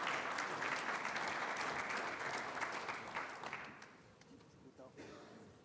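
Audience clapping at a finance and biofuels panel event, a dense wash of applause that holds steady for a few seconds and then thins into scattered claps before fading out.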